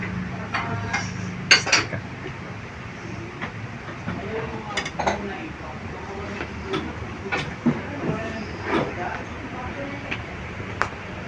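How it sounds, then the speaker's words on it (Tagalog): Soiled dishes being cleared from a restaurant table: scattered clinks of plates, glasses and cutlery close by, under a murmur of voices and room noise. "Do you want me to clean your soiled dishes"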